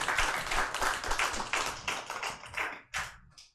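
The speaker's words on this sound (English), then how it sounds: "round of applause for Bill" A small crowd at a live show in the Tattooed Mom bar in Philadelphia applauds a guest named Bill, close uneven clapping that fades, then one last sharp clap.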